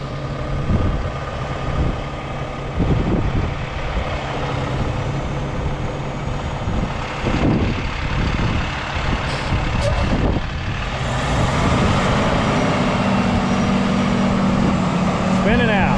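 A truck's tires spin as it pulls a load up over a hill, its engine straining in a loud, sustained roar close by with bursts of grinding, while people talk in the background.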